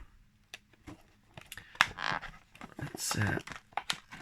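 A toy car blister pack, a VW Type 2 T1 die-cast, is pried and torn open with sharp plastic cracks and crinkles over a few seconds, while a person talks close by.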